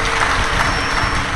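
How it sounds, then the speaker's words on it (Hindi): Loud, dense audience applause at a live Shiv Mahapuran religious discourse gathering in welcome, a continuous wash of many hands clapping at once. "एक बार जोरदार ताली बजाकर इनके लिए स्वागत"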